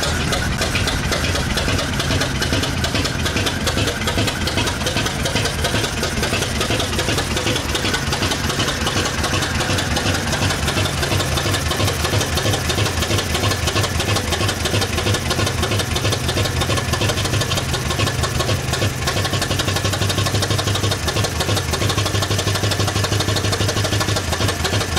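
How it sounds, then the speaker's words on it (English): A 1906 International truck's two-cylinder air-cooled engine idles close and loud with a steady, rapid knocking chug throughout, running alone without talk. "This is a 1906 International, powered by a two-cylinder air-cooled engine."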